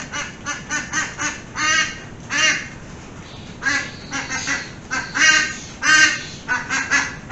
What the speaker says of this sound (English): That has got to be the noisiest duck I have ever owned.